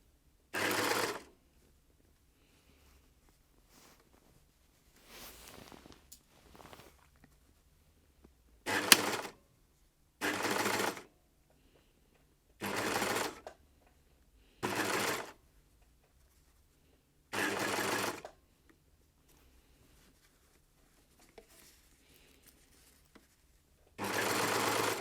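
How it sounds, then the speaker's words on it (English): An overlocker sews a zip in short bursts of fast mechanical whirring, about eight separate runs of a second or so each, separated by quiet pauses, close and alone. "So I'm just going to start sewing."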